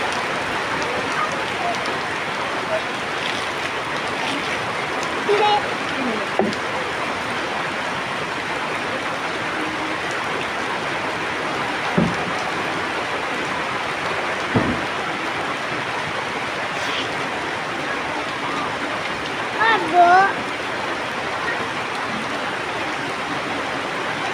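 Heavy rain falls outdoors in an unbroken wash of hiss and patter, steady throughout with a few brief louder splashes and faint background voices.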